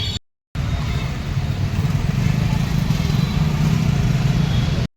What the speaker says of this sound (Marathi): वेट करतोय मी रिक्षा निघायचा